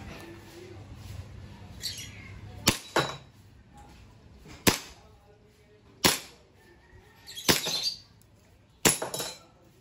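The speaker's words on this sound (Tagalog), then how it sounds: "So test fire po tayo." An Army Armament R609 Executive STI airsoft pistol fires 0.20 g BBs at about 340 FPS, giving six sharp, separate snaps a second or two apart, each followed by a faint clink from the target.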